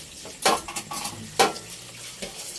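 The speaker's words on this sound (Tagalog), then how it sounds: "Haluin natin guys hanggang sa maluto" A spoon stirs gelatin dessert in a cooking pot, giving a few distinct scraping and clinking strokes against the metal, moderately close, with quiet gaps between them.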